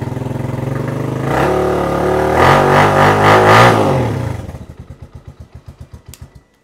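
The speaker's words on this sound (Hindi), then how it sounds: "मैं चाहूँगा कि आपको इसका एग्जास्ट नोट भी सुना दूँ" A 2024 Hi-Speed Infinity 150cc motorcycle engine revs hard several times in quick surges up close in an enclosed space, then drops back to a loud, lumpy idle with a pulsing exhaust thump.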